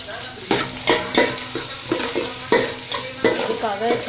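Hot oil sizzles in a large cooking pan for a Sunday kuzhambu, with steady frying hiss and repeated stirring scrapes landing roughly every half second, close and clear.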